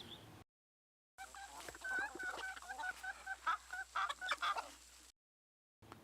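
Several hens cluck softly in a series of short, irregular calls at a village farmstead in Belarus, close by and fairly quiet, with brief silent gaps before and after.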